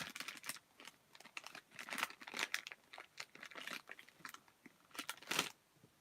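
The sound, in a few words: opening a candy package with scissors, crinkling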